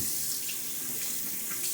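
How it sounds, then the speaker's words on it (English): Cold water runs from a tap in a continuous, close splashing stream, heard alone without any speech. "Right now I can just take a cup and have nice refreshing cold water right from the tap."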